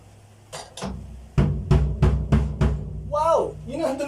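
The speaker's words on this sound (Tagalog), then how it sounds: "Wow! Yun ang tunog ng kick drum natin." Kick drum of a drum set struck several times during a tuning lesson, a deep punchy thump repeated at a steady pace, followed by a person speaking.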